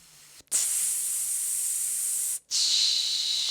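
During a breathing exercise, a forceful exhale makes a bright, airy hiss. One long blow of about two seconds is followed, after a brief break, by a second blow, both close and steady.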